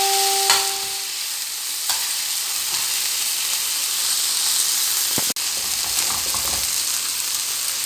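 Green beans with parsley sizzle steadily in a frying pan as they are stirred, with a constant hiss and a few short scraping knocks, and no talking.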